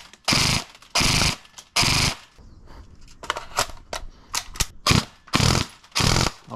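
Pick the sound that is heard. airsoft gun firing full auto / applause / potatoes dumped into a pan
airsoft gun firing full auto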